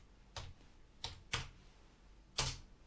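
A few separate keystrokes on a computer keyboard, four sharp clicks with uneven gaps, close and fairly quiet in a still room.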